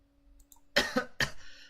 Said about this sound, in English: my cough is getting to me.